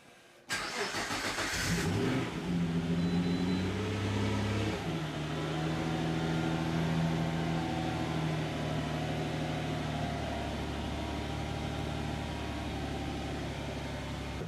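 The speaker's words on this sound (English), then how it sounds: "The engine's vibration." An R35 GT-R engine fitted in a Toyota Hiace van runs steadily up close after a brief start, giving a deep, continuous hum with a rough, shaking undertone and no talking.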